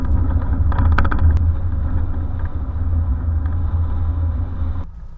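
A car drives along, heard from an action camera held by a suction cup on the front: steady, close engine and road rumble with wind noise throughout and a few brief rattles, no voices.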